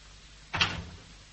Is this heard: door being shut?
yes